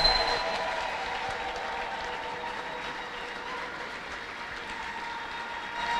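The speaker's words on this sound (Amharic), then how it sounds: "ተነሱና ቆማችሁ አጨብጭቡ" Church congregation standing to applaud at a healing service, a dense, sustained roar of clapping from a large crowd, steady and even throughout, with some faint voices mixed in.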